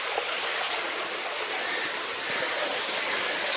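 A waterfall and stream flowing beside an old railway trestle in fog, a dense, steady hiss of rushing water that holds constant throughout with no voices.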